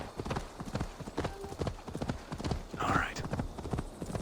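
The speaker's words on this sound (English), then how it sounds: "I do love the speed at which your mount arrives in this game." Horse hooves clip-clop as a mount gallops up in Assassin's Creed Valhalla, a steady rapid beat throughout, with a brief whinny near the end and someone talking over it.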